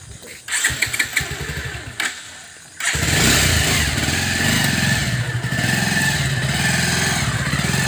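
A motorcycle on a road near Kukurmara, Assam, is started after a few quiet seconds of faint knocks, then runs loudly and steadily close by for the rest of the time.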